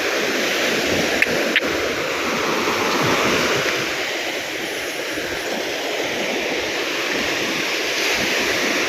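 Strong surf breaking on a shore at high tide, a loud continuous rushing roar with slow swells and a couple of brief knocks, no voices.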